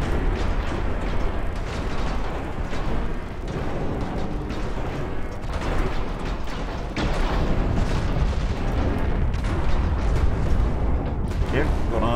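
Battleship guns firing in the naval game Ultimate Admiral: Dreadnoughts, Yamato against Iowa, a loud continuous rumble of heavy booms and blasts with no pause across the whole stretch.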